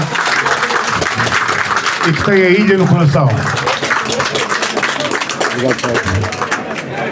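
Audience applause at a book launch for someone's memoir swells into a full, close round of clapping, with a speaking voice continuing over it.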